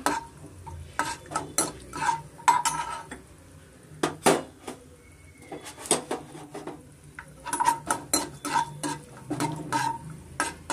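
A spoon stirs food frying in a pan until golden, clinking and scraping against the metal in irregular bursts over a faint sizzle. The sounds are close and clear with no one talking.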